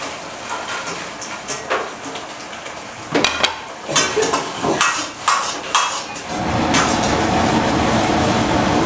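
Soybeans frying in a pan for crispy soya chilli, with bursts of scraping and clanking as they are stirred and tossed, followed by a steady sizzle of frying near and loud, no talk.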